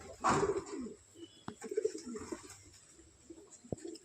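Pigeons in a loft give a soft coo near the start, followed by quiet scattered bird sounds and light knocks in a mostly still room.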